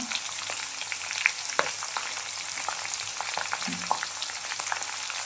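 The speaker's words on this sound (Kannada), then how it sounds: "ಎಣ್ಣೆ ಕುದಿತಾ ಇದೆ ಇವಾಗ ನಾವು ಒಂದೊಂದು ಐಟಮ್ ಹಾಕುವ" Oil bubbles and sizzles steadily in a pan while herbs for homemade hair oil, including bhringraj and curry leaves, are dropped in, with small clinks and stirring sounds scattered over a continuous frying hiss.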